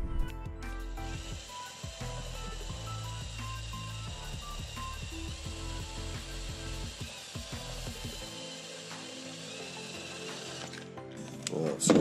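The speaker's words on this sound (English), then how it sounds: "So I'm just going to drill the pilot hole first and then just step it up" A power drill runs almost continuously while boring pilot holes for a homemade car smoke tester, a close, steady whirring motor with rattling and grinding, ending in a few clunks.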